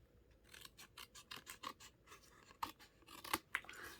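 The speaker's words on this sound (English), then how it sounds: "I like using the scissors so I don't cut that fold" Scissors trimming folded paper card, a run of quick, close snips and crisp cutting strokes in an irregular rhythm, soft and alone.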